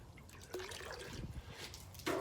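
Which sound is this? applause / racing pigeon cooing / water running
water running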